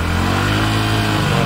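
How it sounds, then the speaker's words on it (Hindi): A 2022 Hero Splendor Plus Xtec motorcycle engine revs hard at full throttle, a loud, close, sustained buzzing roar held steady for the whole moment. "देख सकते हैं आप यहाँ से पूरा एक्सीलेटर लेने पर ये"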